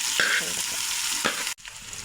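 Three green chillies dropped into a hot pan while cooking drumstick thoran, a loud continuous sizzle and crackle close up, with a couple of stirring scrapes and a sudden brief dip before the frying resumes.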